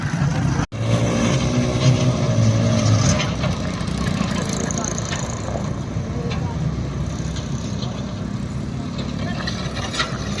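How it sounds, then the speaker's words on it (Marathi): A motorcycle-towed hydraulic reverse-forward dumping trolley being demonstrated live, its engine running steadily throughout with a brief dropout near the start, while people talk over the drone. "Live reverse forward hydraulic ट्रॉलीचा live demo."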